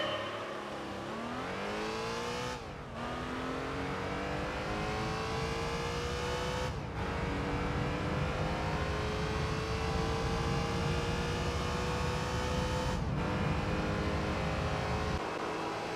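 A race car engine in the video game Gran Turismo 3 drones loudly and continuously, its buzzy, vacuum-like whine climbing in pitch through the gears, with brief abrupt dips at each shift.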